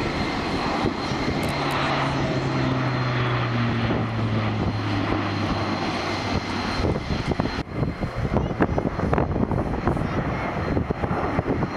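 A display aircraft flies past at the Royal International Air Tattoo air show at RAF Fairford in 2015, its propeller engine a loud, steady droning roar that shifts in pitch as it passes.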